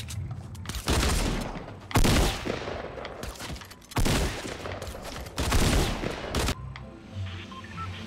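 Dual pistols firing in Fortnite on Xbox One X, several loud bursts of rapid gunshots separated by short pauses, close and dominant.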